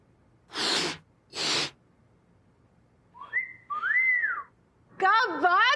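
A person whistling: two breathy blows of air, then short rising and wavering whistled tones, ending in a rapid trilling whistle, close and clear.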